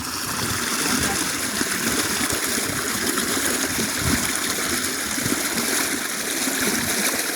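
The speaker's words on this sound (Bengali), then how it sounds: "এখান দিয়ে জল গিয়ে ওই মাটি চলে যাচ্ছে" Water runs steadily through a channel in the ground beside an underground motor, making a continuous rushing trickle at close range with no breaks.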